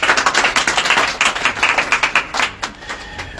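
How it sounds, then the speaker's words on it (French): An audience at a church service claps in a quick, loose rhythm, loud and close at first, then thinning to a few separate claps as it dies away. "On applaudit cet esprit."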